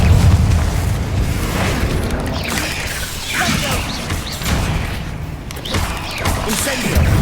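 Confringo spell explosions in Hogwarts Legacy, with heavy booming blasts and crashing impacts rolling over continuous loud combat noise in a fight against spiders.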